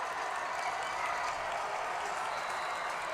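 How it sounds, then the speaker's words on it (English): Home crowd at a Waukee high school varsity football game, a steady wash of cheering and scattered clapping with no clear peaks, fairly distant and continuous throughout. "the Waukee crowd trying to make a little noise here"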